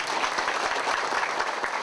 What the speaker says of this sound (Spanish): De nuevo pido un aplauso para usted y para el señor presidente.